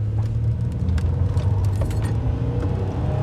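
A car accelerating at full throttle, heard from inside as a loud, steady low engine drone with faint rattles and mechanical ticks over the top, no talking.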